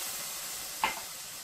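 Beef and vegetable sauté with pasta sizzles softly in a pan over very low heat, a steady faint hiss broken by one brief stir or clink.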